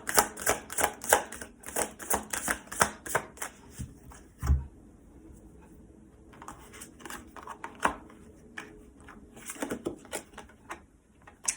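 A deck of oracle cards is shuffled by hand, giving quick rhythmic flutters and soft slaps close by, then a quieter stretch of rustling before more bursts of brisk shuffling.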